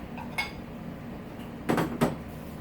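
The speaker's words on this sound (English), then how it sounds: "Two salad bowls." Two salad bowls are set down in a kitchen, giving a couple of close, bright clinks in quick succession after a faint earlier knock, with no talking.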